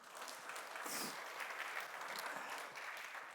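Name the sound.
church congregation applauding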